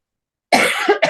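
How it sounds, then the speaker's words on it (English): A single close, sharp human cough bursts out after half a second of silence, followed by a second shorter cough. "Now I'm going to cough and mute myself."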